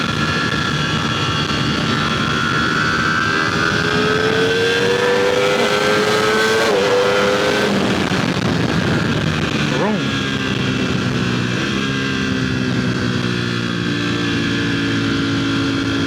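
A motorcycle engine revs loudly and steadily nearby, its pitch sliding up and down in several swells over a constant roar.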